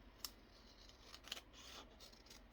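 Scissors snip through a glued paper envelope, a couple of sharp close cuts standing out over soft rustling paper handling, quiet and steady with no talk.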